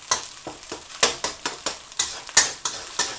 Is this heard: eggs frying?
yes